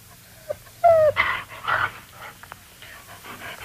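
A dog pants and whimpers in a few short close bursts with soft yips between them, alone without speech over a quiet background.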